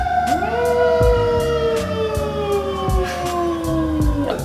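An ambulance siren wails in a city neighbourhood, its falling tone repeating in long sweeps, loud and close, with a rhythmic thumping underneath.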